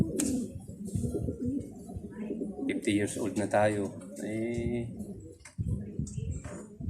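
Pet pigeons coo in low, throaty, repeated calls close by, mixed with someone talking and some wind noise.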